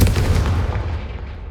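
A deep, booming explosion from the Confringo fire spell in Hogwarts Legacy on PS5, one heavy low blast that rolls and decays over a second and a half.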